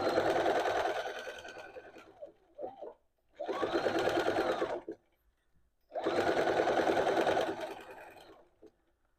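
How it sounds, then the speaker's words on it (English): A sewing machine stitches a Barbara dress in three bursts of rapid, even whirring, each a couple of seconds long and close by, separated by short pauses with faint handling clicks. "Let's just sew all this together."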